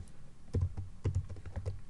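Close, rapid bursts of keystrokes on a computer keyboard while writing PHP/Laravel code, clustered in uneven runs of clicks with brief pauses and no voices.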